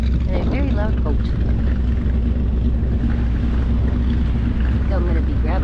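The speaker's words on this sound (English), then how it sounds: "there's lots of bigger stuff and a very loud boat" A loud, steady boat engine drones throughout with constant rumbling off a beach at Lido Key, Florida, and faint voices come through now and then.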